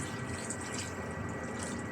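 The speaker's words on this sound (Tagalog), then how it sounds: "Lagyan natin ng tubig" Water pours into a cooking pot while sautéed bottle gourd with misua noodles and sardines is prepared, a steady close splashing stream that runs unbroken with no talking.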